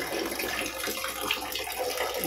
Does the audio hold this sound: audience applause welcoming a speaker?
no